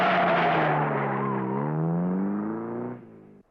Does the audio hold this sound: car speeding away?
yes